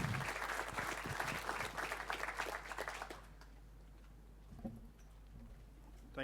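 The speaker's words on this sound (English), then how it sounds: "Would you please keep those round of applause going for all our candidates?" Audience applause for state by-election candidates at a public forum, a dense round of clapping from a crowd that carries for about three seconds then cuts off, leaving a low hum and faint stray sounds.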